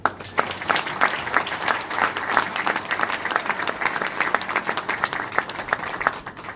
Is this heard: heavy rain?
no